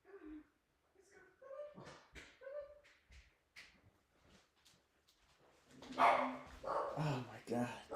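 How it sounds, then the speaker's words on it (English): A pet dog named Lou barks loudly indoors in a burst of several close barks near the end, with people talking before and during. "My dog's so loud."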